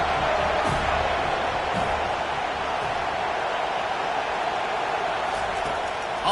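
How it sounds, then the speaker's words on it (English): Football stadium crowd in a college football video game, a steady loud roar of cheering while the defense has the offense pinned deep, continuous and even throughout. "this crowd trying to help keep them there."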